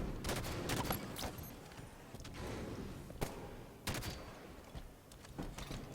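In a Halo capture-the-flag match, battle rifle and assault rifle fire crackle in rapid bursts, mixed with thuds and impacts in a busy, dense firefight.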